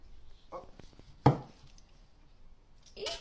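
A knife cuts through grilled meat, unmarinated, on a board for tasting: a few soft slicing scrapes and one sharp chop, close and quiet, with no one talking.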